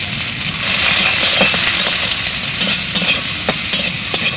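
Chopped onion, peeled garlic, slit green chillies and turmeric fry in a pan, making a loud, continuous close sizzle punctuated by repeated spatula scrapes and taps, with no voices.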